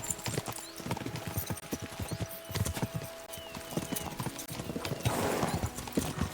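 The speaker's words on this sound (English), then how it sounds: "We should spur the horses on." Horses gallop in the medieval video game Kingdom Come: Deliverance 2, their hoofbeats a rapid, continuous clip-clop drumming, fairly close and steady from start to finish.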